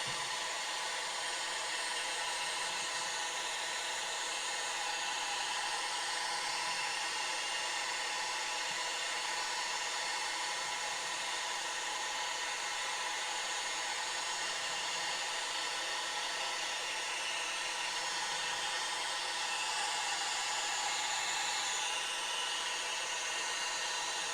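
A hair dryer blows continuously at close range onto painted miniatures, a steady airy whoosh with a motor whine that stays level throughout.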